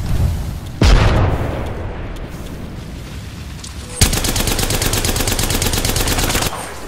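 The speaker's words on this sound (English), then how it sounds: "Grenade out. Grenade!" Video game combat: a grenade blast booms loudly near the start, fading into rumble, then a long burst of rapid automatic gunfire rattles steadily for about two and a half seconds.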